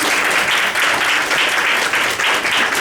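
Loud, close audience clapping at a comedy show, a steady dense wash of many hands with slight swells, no talking.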